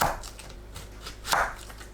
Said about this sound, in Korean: 애호박은 위아래를 잘라내고 반으로 썰어주세요